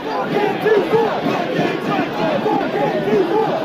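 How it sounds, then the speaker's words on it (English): A large crowd chants in rhythmic unison, loud and sustained, with repeated shouted phrases rising and falling. "while the crowd chanted"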